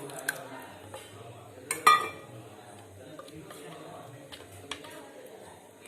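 A spoon working through thick curd in a bowl for a curd chutney, soft scraping with occasional light clinks against the bowl, one sharper knock midway, close but quiet.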